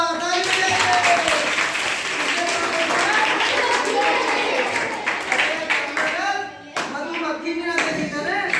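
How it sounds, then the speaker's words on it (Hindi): Children in a classroom clap together in a loud, sustained burst of applause, with voices mixed in and a brief dip before scattered claps resume. "शाबाश, ताली बजाइए।"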